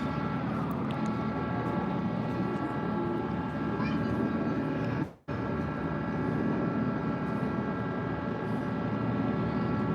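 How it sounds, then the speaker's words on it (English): Three planes flying over with a smoke display make a continuous, moderately loud engine drone that holds steady, broken by one abrupt cutout midway before resuming. "Oh no, it's not jets. It's 3 planes."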